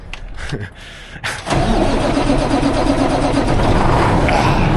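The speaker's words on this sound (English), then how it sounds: "I'm going to move this fertilizer semi that I just walked by" A fertilizer semi truck's diesel engine cranks and catches, then settles into a loud, steady idle after some brief handling noises.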